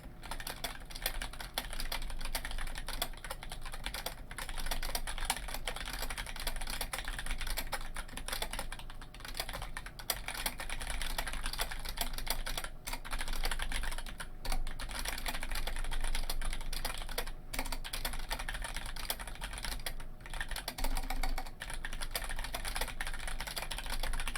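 Mechanical keyboard keys clatter continuously under a light, soft touch, a rapid patter of quiet clicks close by with no talking.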